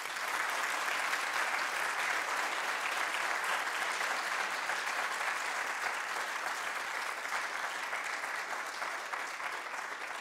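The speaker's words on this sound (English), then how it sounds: "I'll take that round of applause is for everybody" An audience at a U.S. Senate candidate debate applauds in a sustained, dense round of clapping that stays even and fairly loud throughout, with no voices over it.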